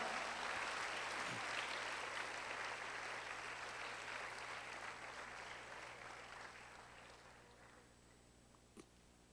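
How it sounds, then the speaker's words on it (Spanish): A church congregation claps loudly and continuously, a dense wash of many hands that gradually fades over about nine seconds, with no talk over it. "Dele palmas fuertes al Señor."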